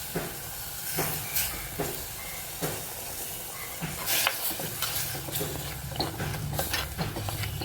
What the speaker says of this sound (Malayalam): നന്നായി ഒന്ന് ഇളക്കിയെടുക്കാം